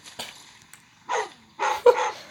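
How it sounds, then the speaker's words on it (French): Dogs in the survival video game Life After give a few sharp barks and yips in an autumn forest, short separate bursts with quiet gaps between them and no talk. "Il y a 3 mêmes chiens."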